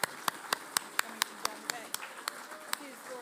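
An audience at a VEX IQ robotics nationals awards ceremony claps for the Mentor of the Year. The claps are sparse and evenly spaced, like a small group, close and crisp.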